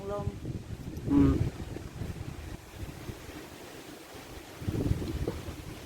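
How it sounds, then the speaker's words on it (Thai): Cold, dry wind blows across the microphone outdoors, a rough, gusting rumble that surges and fades over several seconds. "อากาศหนาวๆ พี่น้องลมแห้งแห้ง"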